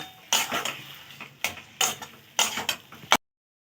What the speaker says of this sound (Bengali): আমি 1 মিনিটের মতন ভালো করে নাড়াচাড়া করে অনেকটাই নেড়ে নিয়েছি।